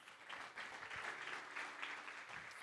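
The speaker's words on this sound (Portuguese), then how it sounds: "Aplauda Jesus por isso." Congregation applauding during a church worship service, a steady wash of clapping that fills the space for a few seconds without words.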